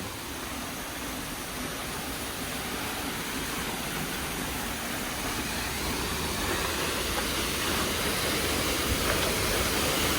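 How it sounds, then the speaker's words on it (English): Steady, broad rushing of water just behind a small waterfall along a hiking trail, a constant close roar that fills the whole stretch without pause or voices. "I think I've walked behind a small waterfall"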